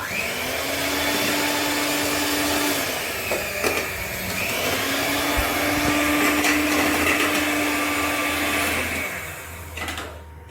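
Electric hand beater whisking egg whites for a vanilla sponge cake, a loud steady motor whine running close and alone, with brief pauses and scraping against the bowl.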